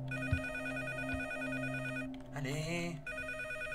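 A telephone rings in the horror video game Case 2: Animatronics Survival, a repeating electronic trill over a low ambient hum, briefly interrupted by a rising synthetic tone while a voice speaks a single word.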